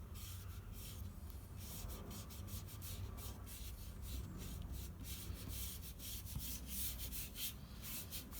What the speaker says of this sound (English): I'll just come in with a big eraser